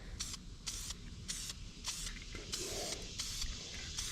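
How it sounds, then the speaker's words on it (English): Duplicolor spray paint hisses from a can in short repeated bursts of about half a second each onto a 2003 Toyota Camry rear door handle, close and fairly quiet, with a faint mechanical rattle between sprays. "I think of all the spray paint types I like right now, this is one."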